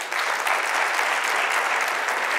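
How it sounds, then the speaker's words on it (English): An audience at a university event applauds a choir with sustained, even clapping from many hands that holds steady at full strength throughout, with no voices on top. "They deserve a round of applause."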